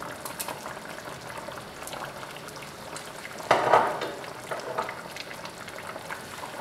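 Pot of chicken broth simmering on the stove, a steady low bubbling hiss with one brief louder burst of bubbles partway through, no voices.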